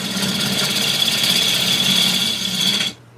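A wood lathe spins a bowl blank while a sharp gouge cuts shavings, giving a steady, loud, even whirring hiss with a faint whine that stops abruptly at the end.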